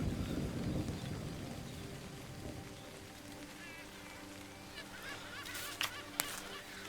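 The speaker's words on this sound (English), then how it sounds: "I love the sound of the thunder" Low thunder rolls under steady rain pattering on a surface in a virtual beach setting, with faint bird calls and a few sharp clicks toward the end.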